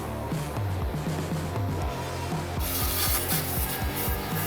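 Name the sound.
Milwaukee polisher sander removing rust on car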